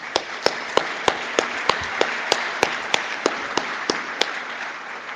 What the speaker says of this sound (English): I would like to give them a round of applause right now